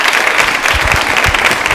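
A brief, loud burst of dense audience clapping at a women's polytechnic anniversary quiz show, steady throughout with no voices.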